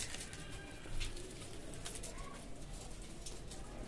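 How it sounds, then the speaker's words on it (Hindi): Pigeons whose wing feathers have been trimmed give soft, low cooing calls, faint and steady under a constant background hum with one slightly louder moment near the start. "ये देखें ये कबूतर है दोस्तों"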